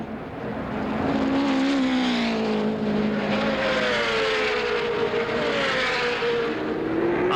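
Open-wheel race car engines at the 1970 Indianapolis 500 drone loudly and continuously, a rising and falling whine of a car pulling away from the pits with other engines in the background.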